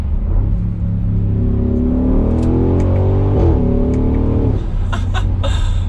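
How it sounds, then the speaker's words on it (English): The 2021 Audi SQ7 4.0T V8 SUV, exhaust set to dynamic mode, rumbles loudly as it accelerates, its pitch climbing through a gear then dropping, deep and steady from close by. "And that exhaust note, we are in dynamic, so it gets a little bit louder"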